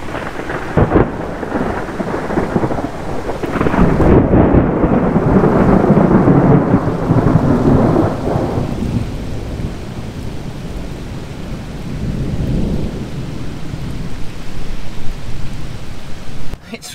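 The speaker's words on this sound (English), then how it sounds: "Loud, sharp thunder right above us." Loud, sharp thunder cracks directly overhead and rumbles in long rolling waves over heavy rain, the storm booming strongest early on and then easing into steady downpour with a fainter later rumble.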